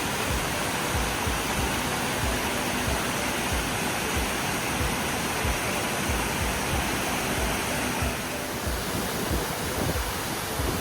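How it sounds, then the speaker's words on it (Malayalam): Water rushes down a waterfall near Bayrischzell, Germany, heard from above the falls as a loud, unbroken roar of broadband noise that holds steady throughout. "ഇതാ വെള്ളച്ചാട്ടത്തിൻ്റെ മേലെ നിന്നുള്ള വ്യൂ ആണ്"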